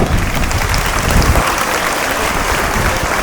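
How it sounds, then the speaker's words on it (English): An audience at a school event applauds in a steady, dense wash of clapping as a renowned actor is welcomed as chief guest, loud and continuous throughout with no talk over it. "A big round of applause."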